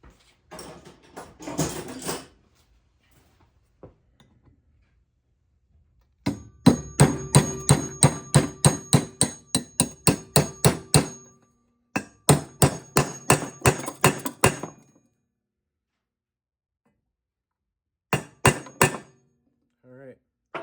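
Rapid series of sharp hammer taps driving a bushing into the lower unit gearcase of a 1964 9.5 hp Evinrude outboard, in several bursts of steady blows separated by pauses, with a short stretch of talk at the start.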